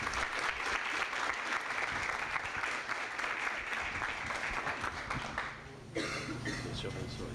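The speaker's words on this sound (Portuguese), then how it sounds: "Vamos receber o nosso palestrante, então, com um forte aplauso." Strong applause from an audience at an evening testimony gathering welcomes the speaker, a thick wash of clapping that fills most of the span before cutting off abruptly near the end, where a voice begins speaking.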